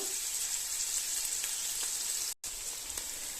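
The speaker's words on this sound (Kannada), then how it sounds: "ಇದು ಎಣ್ಣೆ ಜೊತೆ ಚೆನ್ನಾಗಿ ಫ್ರೈ ಆಗಬೇಕು" Onions frying in oil, a continuous close crackling sizzle that stays steady throughout, cut by one brief gap of silence, with no voices.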